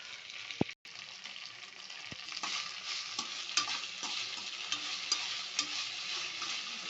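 Dried red chillies frying in oil for mint chutney, giving a steady, continuous sizzle with occasional clinks and stirring scrapes, fairly quiet and with no voices.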